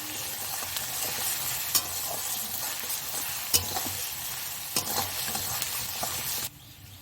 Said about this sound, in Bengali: রসুন বাটা দিয়েও হালকা নাড়াচাড়া করে নিতে হবে